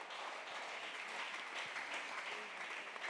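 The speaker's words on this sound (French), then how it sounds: "acclamons très fort le Seigneur" A church congregation claps and cheers during a sermon, a steady dense wash of applause filling the whole moment at moderate distance, with voices faintly mixed in.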